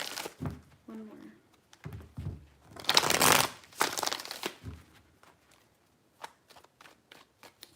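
Tarot cards being shuffled in several riffling bursts, close to the microphone, with a longer loud flurry in the middle and a few soft taps near the end.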